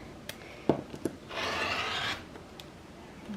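Fabric edges of a quilt label being trimmed: a few soft clicks and taps, then a brief rasping cut lasting under a second, close and quiet.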